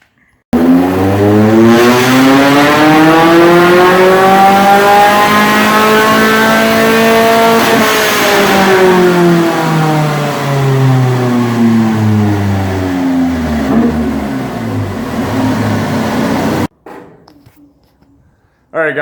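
Volvo 740 engine fitted with a racing header revving hard on a dyno, a loud, high-pitched wail that climbs steadily, holds near the top and then sweeps back down before cutting off abruptly.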